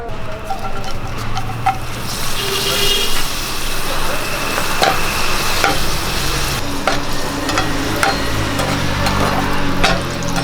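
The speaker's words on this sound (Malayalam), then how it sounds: "ഞാനിവിടെ കുറച്ച് പപ്പടം മുറിച്ചെടുത്തിട്ടുണ്ട് ഇത് നമുക്കൊന്ന് വറുത്തെടുക്കാം" Pieces of cut papad frying in hot coconut oil, a loud, continuous crackling sizzle with occasional stirring scrapes in the pan, close up.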